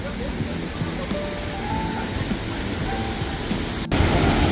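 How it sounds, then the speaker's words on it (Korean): Heavy stream flow in Ssangyong valley below Simwonsa temple, a steady broad rush of water close by, with faint crowd voices and a sudden louder surge near the end. "심원사에서 내려오는 계곡의 물입니다"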